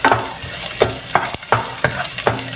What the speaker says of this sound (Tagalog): I-brown po natin guys yung bawang.